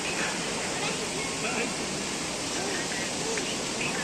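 Waterfall at Panchalingeswar pouring as a steady, dense wash of rushing water, constant and fairly close throughout with no breaks, faint voices barely surfacing beneath it.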